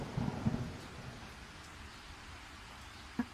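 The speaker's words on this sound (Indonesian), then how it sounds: "Tiba-tiba hujan turun sangat deras." Heavy rain at ten at night: a faint, steady hiss with low rumbling thunder at the start and a brief thump near the end, with no talk.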